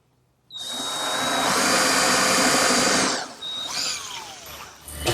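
A power drill drives screws into hardwood blocks for a picture frame, running loud and steady for about two and a half seconds, then a shorter second burst and a faint whine as it winds down.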